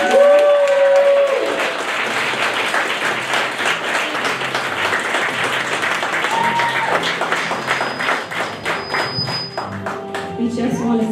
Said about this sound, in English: Let's give our K-5 class a round of applause.